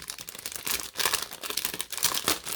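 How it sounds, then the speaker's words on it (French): A fur sleep mask being unwrapped from its packaging, with close, loud plastic crinkling and tearing in irregular bursts that continue throughout, broken by brief pauses. "Hop, allez, je vais le déballer."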